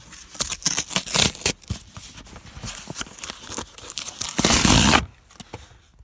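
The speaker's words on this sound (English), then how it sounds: "they send you these boxes that you have to kind of rip here" Cardboard tab on a Sneakersnstuff shipping box being pulled and ripped open, a run of close crackling tears and rustles ending in one loud sustained rip.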